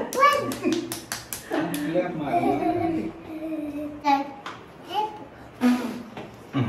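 Young children clapping along at a family birthday celebration, sharp rhythmic claps mixed with a child chanting and adults singing over them, close and lively.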